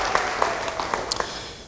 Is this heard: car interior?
no